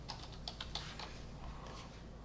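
Fast, uneven keystrokes on a computer keyboard as a command is entered in a Linux terminal, crisp and close, with bursts of clicks followed by a short pause.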